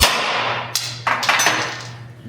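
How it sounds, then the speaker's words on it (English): A hammer strikes a metal cap on a Scout drive shaft, giving a few sharp, close metallic hits spread across the clip above a steady low hum. "Let's try whacking this cap"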